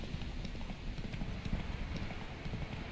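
A horse's hooves clip-clop at a steady walking rhythm in The Witcher 3, close up and moderately quiet, with no voices over them.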